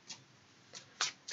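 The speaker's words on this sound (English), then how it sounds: "so let's just shuffle these cards." Tarot cards are riffled and shuffled in quiet, soft papery bursts, four short riffles spaced unevenly, the last two louder and close by.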